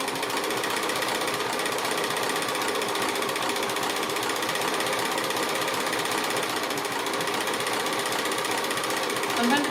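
A domestic sewing machine stitches quilting fabric, a steady, continuous mechanical whirr with a fast needle rhythm that runs unbroken and fairly close for the whole stretch, with no voices over it.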